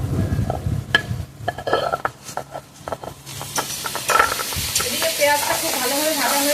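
Poppy seed paste chicken frying in a pan with onions, scraping spatula strokes at first, then a bright, steady sizzle that swells and continues as the mixture is stirred.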